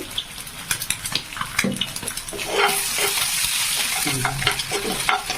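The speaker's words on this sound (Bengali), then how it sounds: "এবার আমি বেগুনটা দিয়ে দেবো" Eggplant goes into hot oil in a pan and sizzles, starting with scattered crackles and scraping stirs, then breaking into a loud, steady hiss of frying close by, with no talking.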